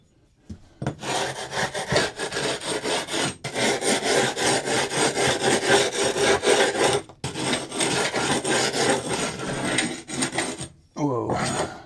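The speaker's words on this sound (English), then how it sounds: "I need to scrape it down and sand it down a little bit" Dried, hardened flooring in a DIY box truck camper is scraped and sanded down, making loud, close, rasping strokes in long bursts with a few brief pauses between them.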